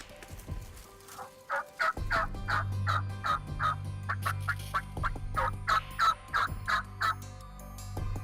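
Repeated wild turkey gobbles during a spring turkey hunt, a string of loud, clear calls rising and falling over several seconds, some close together in quick bursts over a steady low background hum.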